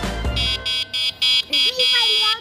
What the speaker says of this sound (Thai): มีแตรด้วย โอ้มีแตรด้วยแตรด้วย